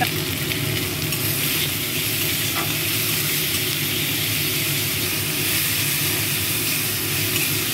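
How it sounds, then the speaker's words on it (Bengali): Masala with cumin, tomato, bay leaf and salt sautés in a pan for egg with pulses, a loud, dense continuous sizzle and stir close by with no voices. "মশলাটা কষানো হয়ে গেছে।"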